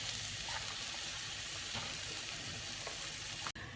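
Meat and vegetables for funchoza fry in a pan with a steady, close sizzle and faint stirring clicks, continuous until an abrupt cut near the end.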